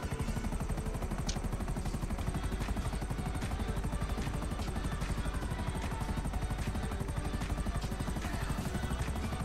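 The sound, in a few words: helicopter in the video game GTA Online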